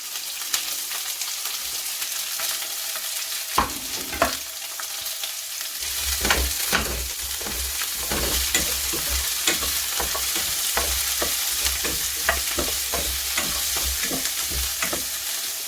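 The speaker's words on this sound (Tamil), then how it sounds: "இப்போ நல்லா பொரியட்டும்." Onions and green chillies fry steadily in a pan for a home-cooked lunch, a continuous close sizzle broken by repeated scraping stirring strokes that grow busier partway through.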